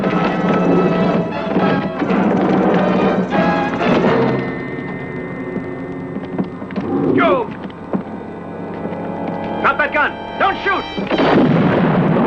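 A dynamite explosion in a spaghetti western film booms loudly and is followed by rumbling debris and crackling, all mixed with a dramatic orchestral score.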